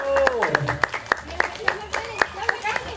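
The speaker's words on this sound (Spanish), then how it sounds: "Un fuerte aplauso para Mariana" Scattered clapping for a girl at her baptism celebration, a small group applauding in rough sharp bursts beneath steady talking and background music.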